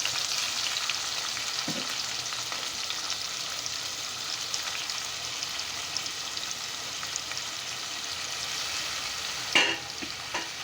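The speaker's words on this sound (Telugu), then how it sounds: "టమాటా వేద్దాం. టమాటా చక్కగా వేగించి కొంచెం చింతపండు కూడా అందులోనే వేసేద్దాం." Tomatoes and tamarind frying in a pan for coconut chutney give off a steady, close hiss of sizzling oil, with a brief clatter of stirring near the end.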